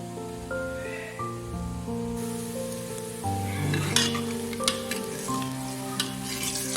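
Onions fry in a pan for an eggplant and potato curry. A steady sizzle runs under a background tone, then grows busier and louder partway through, with sharp clicks from stirring.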